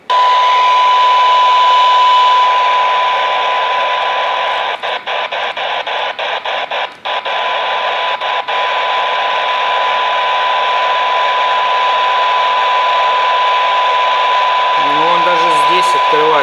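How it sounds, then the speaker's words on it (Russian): A Wouxun KG-UV2Q handheld radio set to squelch level 2 opens on a weak signal at minus 127: loud, steady static hiss with a constant pure tone, briefly broken by a cluster of sharp clicks. "Открывается, уже явно слышен полезный сигнал на минус 127"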